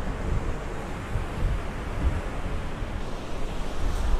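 Strong sea waves and wind on a beach in Phuket, Thailand make a continuous rough surf roar mixed with gusty wind buffeting the microphone.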